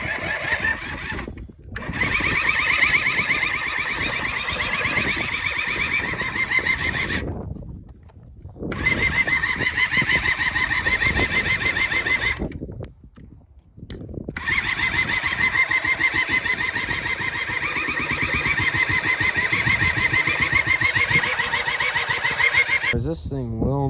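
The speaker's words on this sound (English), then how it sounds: "You can hear it firing, and I just gave it a shot of starting fluid, and I choked it, unchoked it, and it still won't." E-TON Viper 70 small two-stroke engine cranks and fires repeatedly without starting, loud and close, in long sustained bursts separated by short pauses.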